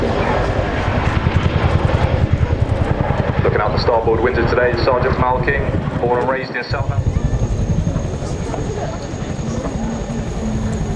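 A Boeing Chinook twin-rotor support helicopter flies at the RAF Cosford Airshow, its loud, rapid rotor thudding pulsing continuously beneath a public-address announcer speaking over it.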